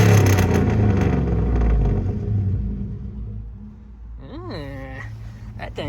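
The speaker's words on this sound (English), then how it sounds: "let me give you guys some revs" Deep rumbling revs from the engine of a 2007 GMC Sierra Classic truck with gutted catalytic converters, loud and close, rising and falling; someone speaks briefly near the end over the idle.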